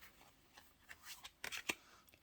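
Tarot cards rustle and slide faintly as one is drawn from the deck during a card reading, a few soft shuffling flicks and a sharper snap near the end, close and quiet.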